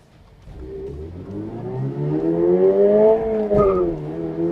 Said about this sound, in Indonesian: Wah, spin di gigi 2 ya.